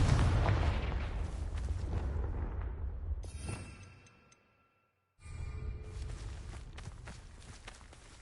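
A blasting fire spell explodes in a wizarding action game, a rumbling boom with crackling debris that fades into near silence before the game's ambience returns.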